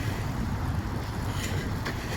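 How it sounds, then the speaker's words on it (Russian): Strong spring wind gusts buffet the microphone outdoors in Yakutsk, amid ice and snow, in a constant low rumble and rush, with no voices. "здесь ветрюган какой-то жуткий"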